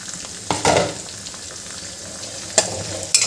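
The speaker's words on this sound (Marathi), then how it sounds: "मी हे वाटाणे छान शिजवून घेते." Peas cook in a pan with a steady frying sizzle, broken by a few sharp scrapes of a spoon stirring against the pan.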